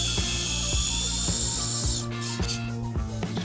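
A power driver sinks 4-inch fasteners to mount a stair railing post, with a steady whining motor and repeated rhythmic ratcheting knocks close by, the tone shifting partway through as the screw seats.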